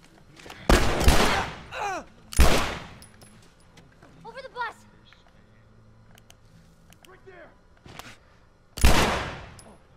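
Gunfire from The Last of Us Remastered comes in three loud, sharp bursts spaced across the scene. Fainter game sounds and voices fill the gaps between them.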